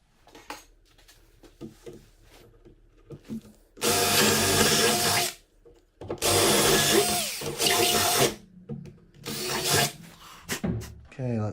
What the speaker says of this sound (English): And then we'll drill.